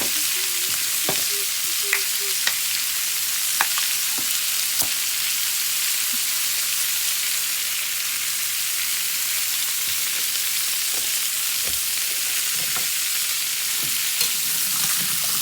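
Breakfast hash potatoes frying in oil as they are stirred, a continuous dense crackle with intermittent scrapes and clicks of a spatula against the pan.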